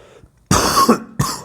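A man coughs twice, close and loud: first a harsh, drawn-out cough with some throat-clearing in it, then a shorter burst after a brief gap.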